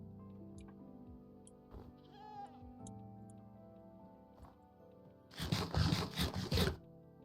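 Goat bleats in Minecraft hardcore mode, a few short cries early over a steady game soundscape, followed near the end by a louder burst of dense rustling clatter.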